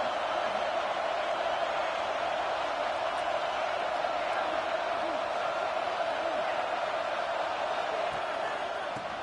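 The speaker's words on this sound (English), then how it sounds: "This crowd is trying to inspire this defense to make a big red zone stop." Steady, dense stadium crowd roar from the EA College Football 26 video game swells as the home crowd urges on its defense, a constant wash of cheering with faint voices mixed in.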